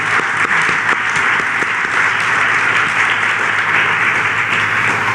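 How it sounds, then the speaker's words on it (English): A university arts and AI event audience gives a round of applause for sponsors and the organizing team: loud, dense, sustained clapping from a large crowd filling the whole stretch. "Please join me in a round of applause for our sponsors and organizing team."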